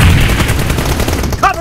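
Gunfire from a shooter video game, several rapid shots in a burst at fairly loud level, ending in a brief tonal game sound.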